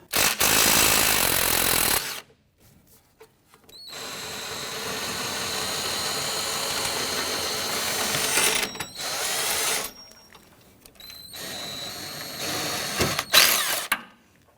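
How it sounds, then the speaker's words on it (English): A wrench and socket work loose an 18mm nut and bolt on the rear upper control arm of a 2011-2021 Jeep Grand Cherokee, with loud bursts of rattling, ratcheting mechanical noise separated by short quiet gaps. "I'm going to use the wrench on the nut side, socket on the other. Let's go ahead and loosen and remove this."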